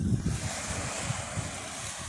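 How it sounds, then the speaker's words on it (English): Sea surf rolling onto a sheltered stretch of beach near a spa pavilion, with a moderate southwest wind buffeting the microphone; a steady, continuous wash of water and wind noise, no voices. "There's not a great wind, not a big wind, but it's coming in from the southwest"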